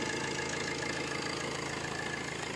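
A used Tata Vista car engine running steadily at idle, a continuous close mechanical hum with a faint rhythmic knock, heard alone without voices.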